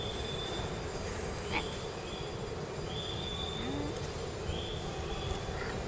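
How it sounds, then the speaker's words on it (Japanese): A train rolls past steadily with continuous rumble and rail noise, faint high squeals of wheels breaking through now and then. "また電車来る。"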